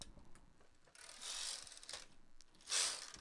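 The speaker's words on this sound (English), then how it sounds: "I'm just going to knit a couple rows." Knitting machine knitting a couple of rows of an elf hat, quiet mechanical carriage swishes and clicks in two brief passes, faint and close, with no talk.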